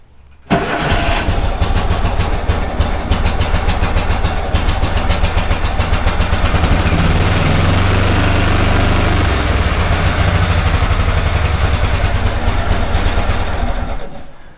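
A Kohler Command 18 small engine being rebuilt, run at medium throttle: it catches after a brief start and holds a loud, steady, close running drone for about fourteen seconds before cutting off.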